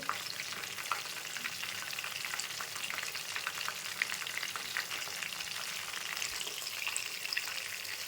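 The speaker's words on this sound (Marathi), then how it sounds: "आता कोळंबी फ्राय होत आहेत." Prawns fry in a hot pan, giving a close, steady crackling sizzle with quick bright pops and light spatter throughout, and no one speaks.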